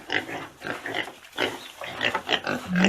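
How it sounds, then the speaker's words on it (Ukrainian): A pig grunts close by in a string of rough, snuffling calls with short gaps. It is loud and continuous, and the last call rises in pitch. "весь город вона перерила, хрюкає, хрю-хрю"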